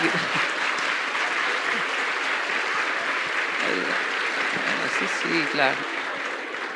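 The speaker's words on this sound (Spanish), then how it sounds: "Ese aplauso salió del alma." Audience applause at a live motivational talk fills the room with steady, dense clapping throughout, with a brief spoken word and faint voices mixed into the crowd noise.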